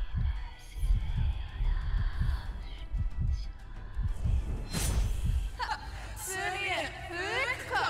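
A low, rhythmic heartbeat thumps repeatedly in the stealth video game Aragami, heard under excited player chatter and laughter along with other game effects.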